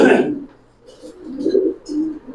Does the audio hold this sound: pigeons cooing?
yes